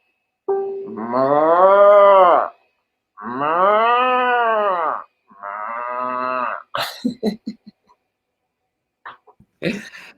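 Three long, loud moos with rising and falling pitch, followed by short clattering and rustling noises, a cow sound that appears to come from a reversible toy.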